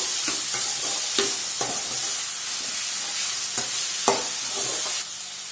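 Beans and diced potato frying in a pan, a continuous hiss of sizzling oil broken by several sharp scraping stirs, close and steady with no talking.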